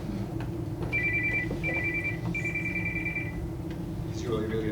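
A phone ringing during a commission meeting: a few electronic rings in a repeating pattern, moderately clear over room noise and murmured talk.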